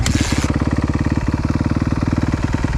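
A Kawasaki KXF 250 motocross bike fires up after a short starting burst and settles into a loud, close, rapid four-stroke idle thumping with an even, pulsing rhythm.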